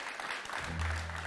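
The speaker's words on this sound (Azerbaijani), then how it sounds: "Alqışlayaq." An audience claps briefly at a ceremony where honorary titles are being announced, a short burst of steady applause that a low hum joins toward the end.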